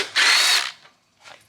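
A power tool whirs in one strong half-second burst on a Ford Bronco's bumper bolts, loosening them, then drops off, with a fainter short spin following after a pause.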